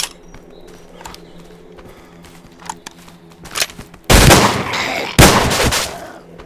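Shotgun shots in the Survive The Nights video game: two loud, close blasts with long noisy tails after a quieter stretch of faint game ambience and small clicks.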